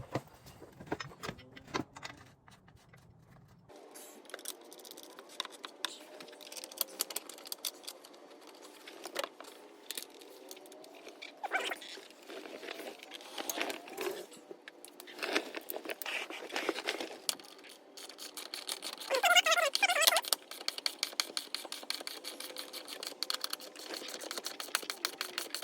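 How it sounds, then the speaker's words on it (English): 14mm bolts are tightened on a 2016 Subaru WRX transmission during a clutch and transmission install. Close, rapid metallic ratcheting clicks come in bursts with short pauses, growing busier toward the end. "Then we have four 14mm bolts that are going to be torqued down to 52 foot-pounds."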